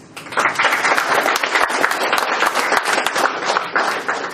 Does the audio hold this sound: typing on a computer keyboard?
no